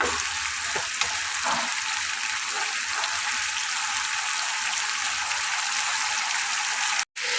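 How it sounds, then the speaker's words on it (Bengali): Masala spice paste fries steadily in oil for a Bengali fish curry with gule fish and brinjal, a close, even sizzle that runs throughout and cuts out briefly near the end, with no talking. "দেখুন মশলাটাকে আমি প্রায় পনেরো মিনিট ধরে কষাচ্ছি দেখুন ওপরে কিন্তু তেল চলে এসেছে"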